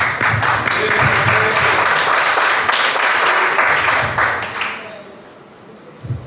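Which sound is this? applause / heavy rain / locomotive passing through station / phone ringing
applause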